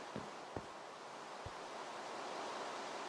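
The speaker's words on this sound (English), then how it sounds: "There we have the waterfalls." A Minecraft waterfall gives a steady, soft rushing wash of water noise, broken by a few faint clicks near the start.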